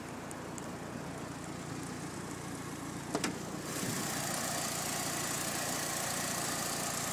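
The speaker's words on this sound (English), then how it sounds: "The engine is on at the moment." Mitsubishi Lancer GSR Evolution V engine idling, a steady low hum that becomes slightly louder partway through after a short click, with no voices.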